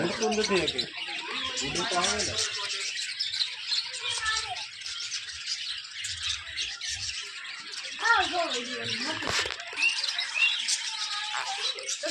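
Many colourful birds chirp and tweet busily close by at a nature park in Navsari, with cooing and voices mixed in.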